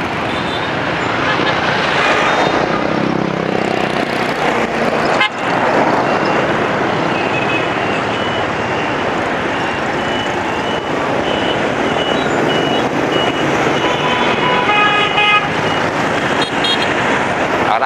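Dense road traffic streams past near the Western bus station in Saigon, with continuous engine roar, horn toots and reversing beeps, loud and close, and a voice speaking over it.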